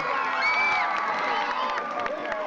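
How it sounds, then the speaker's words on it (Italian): A large crowd at an outdoor concert in a town square cheers, whoops and claps loudly and steadily, with shrill shouts and whistles rising above the dense roar throughout. "Lo facciamo un forte applauso tutti insieme,"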